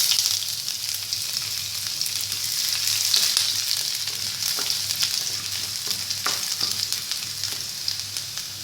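Chopped shallots, a small piece of ginger and two garlic cloves frying in oil with popping mustard seeds, a steady close sizzle with scattered crackles and light stirring, no talking.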